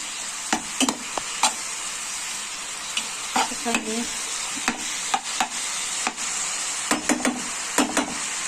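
Palak (spinach) fries in a pan with a steady, close sizzle while a spatula scrapes and taps the pan in irregular strokes.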